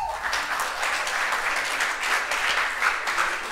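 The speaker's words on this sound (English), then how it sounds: "give yourselves a round of applause" An audience at a summer arts camp final performance at Lebanese American University claps in a steady, dense round of applause that holds through the whole short stretch.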